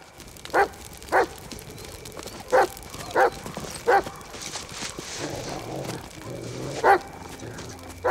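A dog digging at a crime scene barks in short single woofs, about seven spaced a second or so apart, moderately close, over quiet background murmur.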